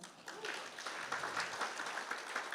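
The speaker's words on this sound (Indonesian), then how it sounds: "Yang percaya berikan tepuk tangan." A church congregation claps together at a sermon, a steady dense wash of many hands heard from across the room, with faint talk beneath.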